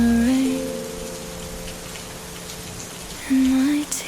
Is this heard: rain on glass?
yes